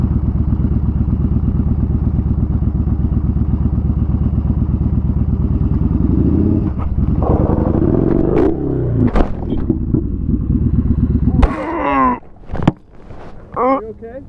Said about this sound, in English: You're riding a motorcycle, man!